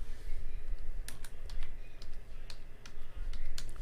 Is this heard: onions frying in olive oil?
no